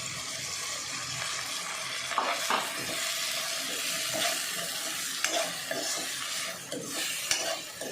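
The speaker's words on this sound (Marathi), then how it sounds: "आता ह्याच्यात आपण मुगाची डाळ टाकून घेऊया म्हणजे मुगाची डाळ पण शिजेल पटकन" Moong dal being stirred into drumstick leaf curry in a pan, with a steady sizzle and scraping stirs and occasional clinks of the utensil against the pan, close and continuous, no talking.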